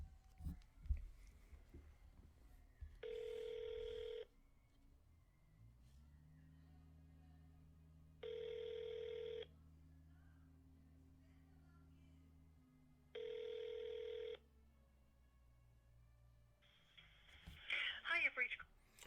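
A phone line rings on a call to Hasbro customer service: three evenly spaced electronic ring tones about five seconds apart, with a low steady hum and faint background noise between them.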